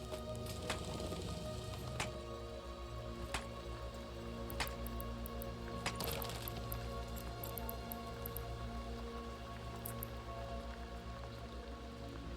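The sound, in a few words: rain falling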